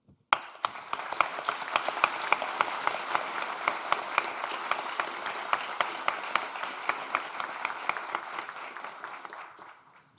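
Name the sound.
audience applauding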